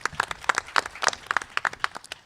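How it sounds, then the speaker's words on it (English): Audience applause at a family forum on autism, a brief burst of sharp, uneven hand claps from a modest crowd, fairly close and dense, with no talking over it. "So I want you to give yourselves a round of applause for taking the time to be here today."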